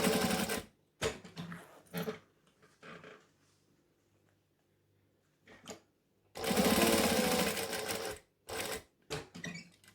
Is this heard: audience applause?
no